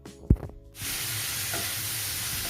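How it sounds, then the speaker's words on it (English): Prawns land in a hot pan with a thud and a clatter, then a loud, steady, close sizzle of frying in oil fills the rest of the moment. "Add prawns. Don't overcook it, just fry it for 2 to 3 minutes"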